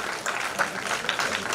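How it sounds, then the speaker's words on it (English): Brief burst of audience clapping in an auditorium at an inauguration ceremony, a steady wash of hands applauding volunteers, fairly close, with a voice briefly audible underneath. "a big round of applause for all of them"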